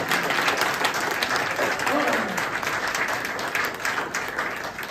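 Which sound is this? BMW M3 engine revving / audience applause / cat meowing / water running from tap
audience applause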